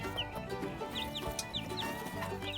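Chickens clucking around a feeder, with soft overlapping clucks and short chirps scattered throughout, fairly quiet and close, and no talking.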